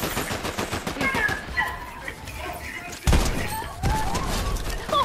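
Hand cannon gunshots boom in a Fortnite custom match amid a busy mix of game effects and chatter, with a loud, sharp blast near the middle and another heavy hit shortly after.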